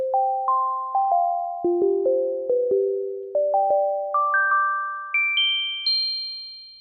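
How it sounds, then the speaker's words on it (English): A clean Elektron Digitone synth tone passes through a Demedash T-120 v2 pedal, a bright, plucked, bell-like melody of single notes stepping steadily upward. "So the clean tone sounds like this."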